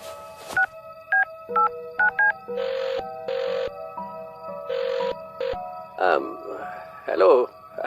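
Telephone keypad tones beep in a quick series of dialed digits, each a short clean double tone, followed by brief ringing and electronic phone sounds, close and clear with speech nearby.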